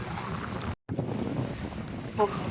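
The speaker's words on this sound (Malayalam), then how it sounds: "ഇപ്പോൾ അതാ ഭയങ്കര കാറ്റായി" Strong wind at sea buffets the microphone in a constant roar over open water, with a brief cutout and a faint voice near the end.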